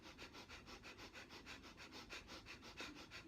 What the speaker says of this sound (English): So you do breath of fire, which is inhaling and exhaling, same amount of breath, kind of like rapid fire.